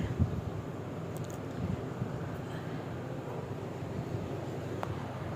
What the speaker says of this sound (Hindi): हवा चल रही है, ठंडी ठंडी हवा चल रही है।